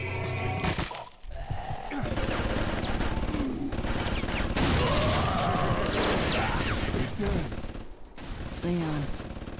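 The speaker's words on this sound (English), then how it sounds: "Uh-oh. I hear gunshots." Gunfire rattles in Resident Evil 4: Separate Ways, bursts of shots and crashing impacts over game music and ambience, loud and close, with a voice talking briefly over it.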